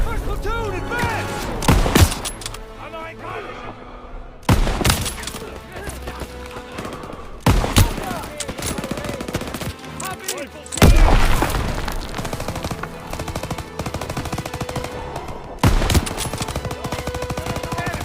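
Rifle and machine gun fire in the Call of Duty WWII video game battle, with continuous rattling bursts and sharp loud shots repeatedly punctuating a dense combat din, close and intense, with no clear speech.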